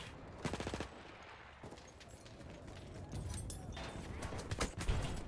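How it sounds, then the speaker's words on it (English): Gunfire in the Battlefield 1 video game crackles in rapid machine-gun bursts and scattered shots, fairly faint and distant, growing busier toward the end under a dense battlefield background. "please stop shooting me"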